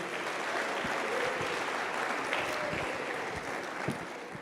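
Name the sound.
congregation applauding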